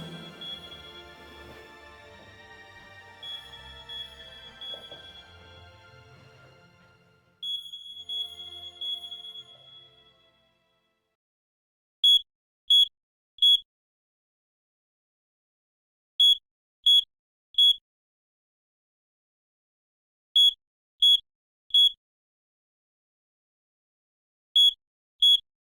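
Beeping alarm in the video game Dark Nights with Poe and Munro: after a stretch of low ambience and tones, sharp high electronic beeps come in short groups of three, separated by silence and repeating several times.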